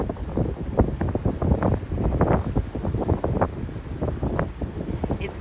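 Breeze blowing across the open bridge of a boat on a lake along the Rideau Canal, heard as steady, gusty wind buffeting the microphone throughout, loud and close.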